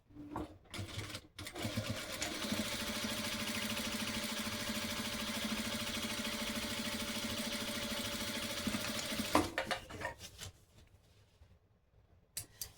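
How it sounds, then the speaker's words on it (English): An industrial sewing machine runs in one long steady burst of fast, even stitching, then stops, followed by a few handling clicks. "How many of you sew with a industrial sewing machine?"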